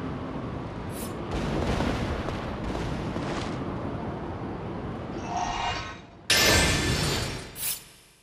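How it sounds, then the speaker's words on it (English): Cannon fire booms in the video game The Last Story, with deep rumbling blasts and heavy explosive crashes over a dense roaring background, one sharp loud burst standing out near the end. "I can't believe they'd shoot at us with the cannon."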